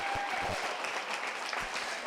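An indoor crowd at a 4-H dairy goat show claps for the exhibitors, a brief burst of steady applause with a few low thumps near the start.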